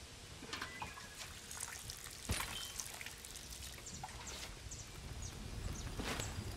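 Water pouring and trickling onto plants in the video game Lens Island, a soft continuous splashing wash with a brief sharper tap midway.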